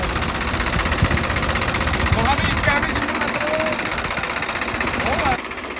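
A Swaraj 855 4x4 tractor with a four-cylinder engine runs at a steady, throbbing idle close by, loud and continuous, with a voice talking over it.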